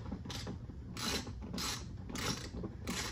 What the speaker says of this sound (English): And then you're gonna put your 8mm bolt back in, which kind of goes at an angle.